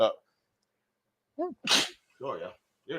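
A single sharp sneeze bursts out mid-conversation, set between short bits of nearby speech.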